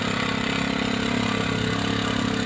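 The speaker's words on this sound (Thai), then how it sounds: "นี่ลองใส่สโลต่อที่หนึ่งครับ ก็จะช้ากว่านิดเดียวครับ" A three-wheeled cargo truck engine runs steadily in slow first gear, a close, even, low mechanical drone with a buzzy harmonic hum and no pauses or voices.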